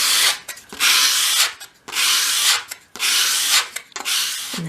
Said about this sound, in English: with your sandpaper flat on your work surface, just hold the piece at a 45-degree angle, and as you sweep it towards you